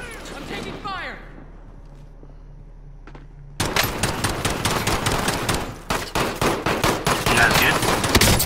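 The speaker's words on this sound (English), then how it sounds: "I'm taking fire." Gunfire in a Call of Duty Cold War-era shooter game, a sudden loud burst of rapid automatic fire and explosions following a quieter stretch with faint effects and brief voices, continuing dense and close to the end.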